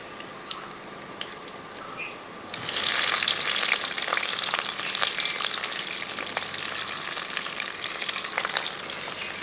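Ginger and garlic fry in a hot pan, a steady broadband sizzle that jumps suddenly louder partway through, with scattered scraping ticks from stirring close by.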